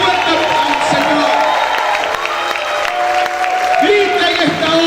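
A church congregation applauds and cheers with shouts and whoops in a loud, sustained roar of clapping and voices that stays steady and close for several seconds.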